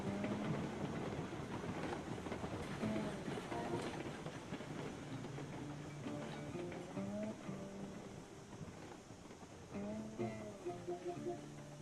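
Rumbling railroad cars in Railroads Online slowing to a halt, a steady low rolling drone with faint clanks and squealing brake tones, with some talk over it.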